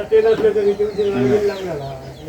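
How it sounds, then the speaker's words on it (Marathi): Chickens cluck and call in short bursts close by in a rural Konkan village yard, mixed with voices talking nearby. "कोंबडे पण येतो. हो कोंबड्या आहेत."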